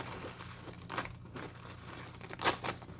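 Stickers peel off a sheet in crinkly, tearing bursts: two sharper rips stand out among softer rustling, close up and fairly quiet.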